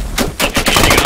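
Loud, close automatic gunfire from the military shooter game Squad, with rapid repeated shots forming dense overlapping bursts.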